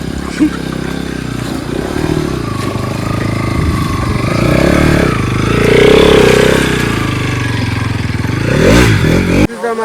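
A motorcycle engine runs close by beside a river near Alibag, a steady rumbling drone that swells in a rev near the middle before settling back, with some clatter.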